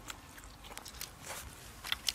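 Soft, close crunching bites into crispy grilled fish, a few quiet crackly snaps and chewing sounds scattered over a couple of seconds.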